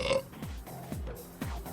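A video game goblin character burps loudly three times in a row, each deep, croaky belch dropping in pitch, evenly spaced and close up.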